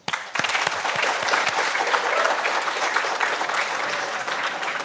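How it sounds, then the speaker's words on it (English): A hall audience breaks into applause to welcome Dr. Rebecca Winthrop to the stage, starting abruptly after a brief pause and holding steady and full for several seconds. "Let's welcome Dr. Rebecca Winthrop with an applause."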